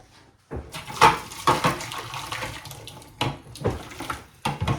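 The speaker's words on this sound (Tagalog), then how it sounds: "sterilize ko ito kasi meron akong mainit na tubig" Hot water splashes and pours in uneven bursts, close by, with clinks and knocks as if against a sink or container.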